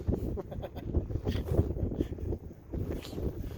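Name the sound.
mild west wind on Oneida Lake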